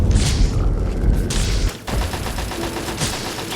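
Grenade blasts in Fallout 3 on PC, heavy booming explosions with a broad rumble, one big burst followed by a short dip and another roaring detonation, loud and close with no talk.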